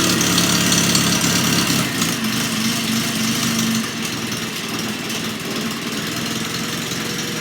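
Farmall Cub tractor engine idling steadily close by, a constant loud mechanical drone with a slight drop in level midway and no talking.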